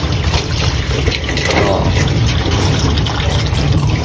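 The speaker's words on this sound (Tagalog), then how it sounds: "lagyan natin tubig" Water poured into a drinker for racing pigeons, a continuous close splashing stream.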